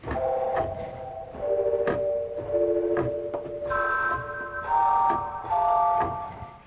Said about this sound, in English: just a little bit of reverb